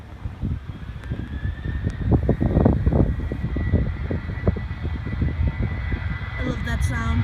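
A fixed-wing airplane roars down the runway on takeoff at Toledo Express Airport, a broad steady rumble swelling and holding strong with wind buffeting the microphone.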